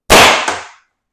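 A single sharp shot from an air rifle with a tuning chamber or moderated 6-inch barrel, fired during a chronograph velocity test: one loud crack close by with a short decaying tail, no voices.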